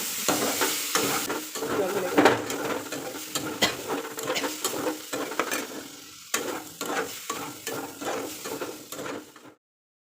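Cauliflower and potato pieces fry in a pan with turmeric, salt and cumin paste, sizzling steadily while a spoon stirs and scrapes in repeated close strokes until the sound stops.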